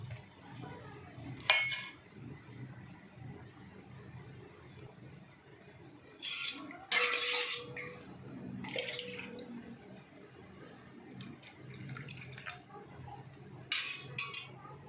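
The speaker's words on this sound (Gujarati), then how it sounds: "થોડીક છાશ ઉમેરી અને આપણે મિક્સ કરી લઈએ।" Buttermilk goes into semolina dhokla batter and gets mixed, with a few sharp spoon clinks against the bowl and soft wet stirring under a quiet background.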